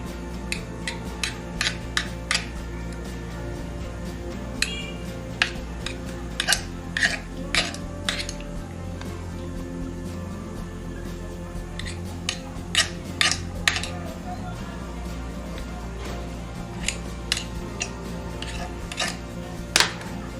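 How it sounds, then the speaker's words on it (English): A utensil cuts excess pie dough around a pan, making scattered sharp clicks and scrapes against the pan's rim. The sounds come close and irregularly over a low background rumble. "we are just going to cut off the excess dough."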